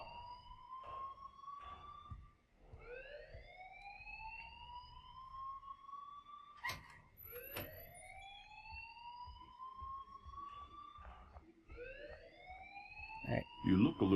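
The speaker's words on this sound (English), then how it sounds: "please turn off that alarm since that's your job" Alarm blaring in the video game Life is Strange, a repeating rising electronic siren-like whoop cycling several times, with game character voices talking over it.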